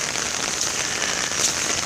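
Heavy rain falls steadily on surfaces in a flooded Kyle, Texas housing development, a dense, even patter with no voices.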